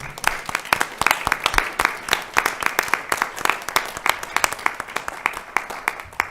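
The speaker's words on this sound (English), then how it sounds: "So applause for our artists" Applause at a city council meeting in Oak Park, a scattered crowd of hands clapping steadily and fairly close for several seconds, sharp individual claps standing out, with a faint voice or two beneath.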